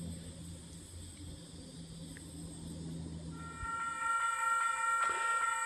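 A Gosford service train pulls into a platform at Wondabyne Station in New South Wales, a steady rumble with brake or wheel tones and a brief high horn-like sound near the end.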